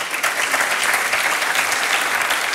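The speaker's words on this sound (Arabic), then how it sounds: "تصفيق على زهره" Dense, steady audience applause for a contestant on a TV show, loud and continuous throughout with no talking over it.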